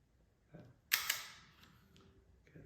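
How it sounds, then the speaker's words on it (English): The shutter button on a Polaroid Land 110B camera is pressed, pushing a small lever on the lens and giving one sharp mechanical click with a quick second snap, close and quiet in an otherwise still room. "this is the shutter button here that presses a little lever on the lens"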